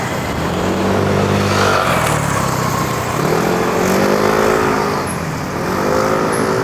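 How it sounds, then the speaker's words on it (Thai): A sedan car drives past on a road and turns into a Makro store lot, its engine a steady, close, loud hum with rising and falling harmonic sweeps that suggest gear changes and acceleration, heard from a bicycle ride. "รถเก่งจะเลี้ยวเข้าเมโคร"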